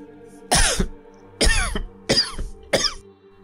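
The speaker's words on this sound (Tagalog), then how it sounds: "Mukhang ang lala ng ubo mo" Four harsh, heavy coughs in a row, each a loud burst separated by short pauses, close to the listener with no talking.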